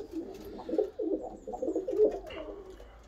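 Pigeons in a loft coo in soft, throaty, rolling bursts, several overlapping phrases close by with short pauses between, and no talking.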